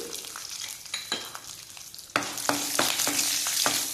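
Ingredients for kara chutney roasting in a pan, a quiet sizzle that jumps louder midway, likely as more goes in, with steady frying hiss and sharp scraping stir strokes.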